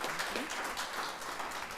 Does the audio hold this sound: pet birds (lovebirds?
no